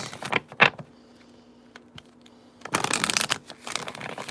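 Tarot cards riffled and shuffled close by in short bursts, a quiet pause, then a longer rustling shuffle toward the end.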